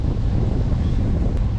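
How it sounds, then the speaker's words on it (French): Strong wind buffets the microphone outdoors on an autumn day near the Lac du Der in Champagne, a loud, continuous low rumble with no voices. "aujourd'hui il y a beaucoup de vent"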